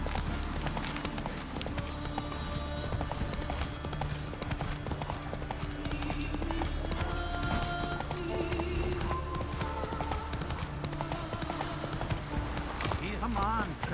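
Roach the horse from The Witcher 3 runs with steady, continuous clip-clop hoofbeats under dense game music and ambience, with voices talking and an occasional whinny.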